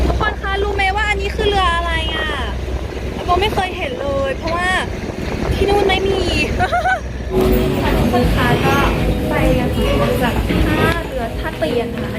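A boat rides on the Chao Phraya River, its engine and water rumbling steadily under heavy wind buffeting the microphone while people talk nearby.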